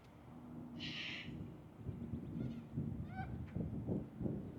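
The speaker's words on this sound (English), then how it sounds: "Today we've got lots of cockatoos around talking to us." Cockatoos call outdoors during an open-air yoga class, one loud harsh screech lasting about half a second near the start, followed by fainter scattered squawks over steady wind noise.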